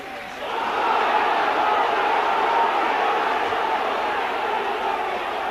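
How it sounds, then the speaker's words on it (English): A rugby league crowd roars in a sustained, dense wash of voices after a Great Britain versus New Zealand try by Mark Elia, swelling quickly and holding loud and steady throughout. "I think the crowd are roaring"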